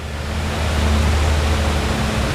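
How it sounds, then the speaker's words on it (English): Rainwater pours off a bluff after a hard thunderstorm, making a steady, unbroken rushing roar with a low hum underneath and no voices. "hear the water coming off the bluff over there."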